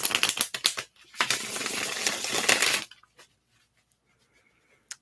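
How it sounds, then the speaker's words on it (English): Tarot cards are shuffled in quick riffling bursts, close and crisp, with a short pause between two rounds, followed by near silence and a faint tap. "wait there gently and patiently while I shuffle the cards"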